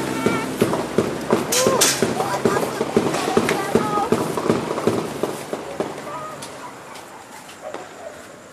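Gunfire on a city street, heard as a playback: a rapid string of sharp cracks and pops, loud at first and then thinning out, with voices mixed in.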